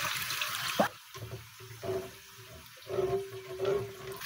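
Water pours into a pan as the base for gravy in a chicken dish with oyster sauce, an initial splashing gush followed by quieter intermittent trickling and bubbling close by.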